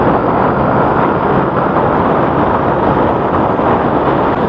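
Strong wind buffeting the microphone while riding a Yamaha Nmax scooter, a loud, steady broadband roar that fills the whole clip without a break, with no talk.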